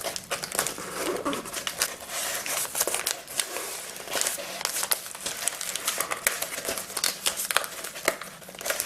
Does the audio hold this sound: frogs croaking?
no